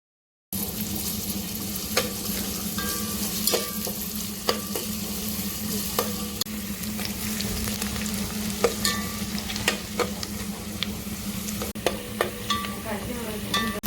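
Onion fries in hot oil in a pot over a gas flame, a steady close sizzle broken by repeated scraping clicks of stirring throughout.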